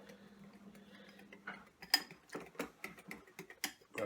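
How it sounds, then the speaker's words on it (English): Besan batter being whisked by hand in a bowl with turmeric powder, giving a run of quick, uneven tapping and scraping strokes that grow louder and more rhythmic after a quiet start, close up with no talking. "Give that a whisk."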